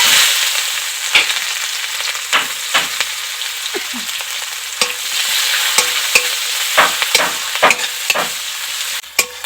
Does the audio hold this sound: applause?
no